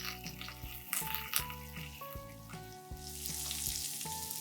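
Sliced garlic and ginger julienne frying in a pan for a few seconds, a soft continuous sizzle that stays faint and steady, with background tones underneath.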